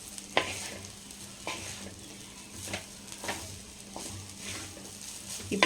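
Vegetable fried rice sizzles steadily in a pan over a high flame, with a spatula giving periodic sharp scrapes and taps against the metal, close and moderately loud, with no talking.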